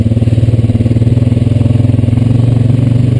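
Honda Rancher 420AT ATV riding a trail, its engine a steady loud low throb with rapid even pulsing and light rattle, close and continuous.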